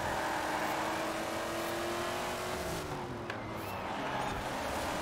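A race car in a Forza Horizon 4 seasonal event sprint accelerates, its engine roaring loud and steady with rising pitch as it shifts through gears, with no voices over it.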